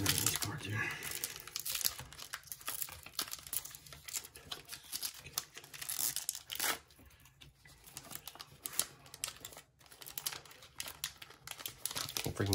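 A trading card pack wrapper crinkles and tears almost continuously as someone struggles to open it up close, with a voice talking now and then.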